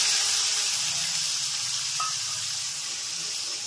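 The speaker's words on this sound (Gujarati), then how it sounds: "હવે ટમેટા નાખી દેવાના હવે વઘાર." Tomatoes dropped into a hot mustard-seed and cumin tempering give a steady, even sizzle and hiss, close and continuous with no voices over it.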